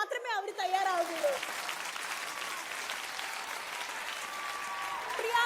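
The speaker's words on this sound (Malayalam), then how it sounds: "നിങ്ങൾ കൈയടിച്ചാൽ മാത്രമേ അവർ തയ്യാറാവുകയുള്ളൂ." Audience applauding at a stage show featuring Madhuri Dixit in Kerala. Loud sustained clapping from a large crowd begins right after a brief spoken line from the stage and continues steadily to the end.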